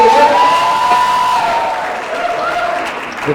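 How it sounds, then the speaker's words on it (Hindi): A large crowd at the launch event for a Hindi TV reality show bursts into loud applause and cheering, with whoops and whistle-like tones over the clapping before it gradually thins. "उसके लिए जोरदार तालियां हो जाए हीना और रॉकी के लिए"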